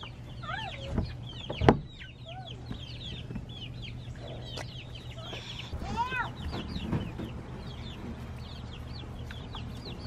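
Backyard chickens cluck and chatter in repeated short calls, moderately close, over a low steady hum. A louder squawk stands out near the start, and bursts of soft clucking keep up throughout.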